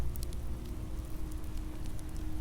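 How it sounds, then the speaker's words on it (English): Steady, dense patter of rain on a surface, a continuous soft hiss with occasional brighter drops, no voices. "You hear only the rain, the waves,"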